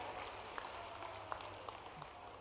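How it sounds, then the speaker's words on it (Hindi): A large crowd at an official medical college event applauds with hands raised, a dense steady wash of clapping from many people, heard from a distance and sustained throughout. "दोनों हाथ ऊपर के जोरदार ताली बजा के अभिनंदन"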